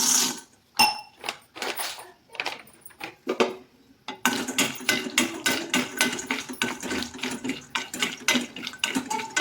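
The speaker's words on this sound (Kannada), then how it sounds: "ಇವಾಗ ಗೋಡಂಬಿನ ಹಾಕ್ಕೊತಾ ಇದ್ದೀನಿ." Cashews drop and clatter into a pan for roasting while homemade Horlicks protein powder is prepared, with sharp irregular clinks and scrapes, a short pause, then a denser run of close metallic taps and stirring.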